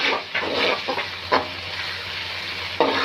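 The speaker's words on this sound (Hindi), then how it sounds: "इसको फ्राई करेंगे और साथ में ही अदरक और लहसुन का पेस्ट शामिल कर देंगे।" Onion with ginger and garlic paste sizzles in hot oil in a pan, giving a steady hiss with a few louder bursts as it is stirred, and no talking.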